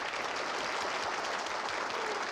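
A crowd cheering and clapping plays as a radio show sound effect, a steady wash of applause and cheers at moderate level, with no talk over it.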